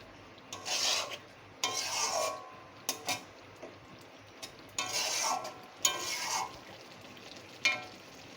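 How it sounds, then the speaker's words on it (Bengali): A soybean and flour mixture worked together with a spoonful of ghee in a pan: repeated rasping scrape strokes in an uneven rhythm, each lasting up to a second, close and fairly quiet with no talking. "দিয়ে ঘিটা দিয়ে সুন্দর করে একটু মিশিয়ে নেব"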